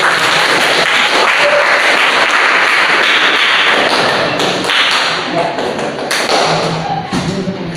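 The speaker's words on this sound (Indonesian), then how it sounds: "kita beri tepuk tangan untuk kelompok 1" A class group applauds the first presentation group at a university teacher-training session: dense, loud clapping from a roomful of people, tapering slightly toward the end, with faint voices mixed in.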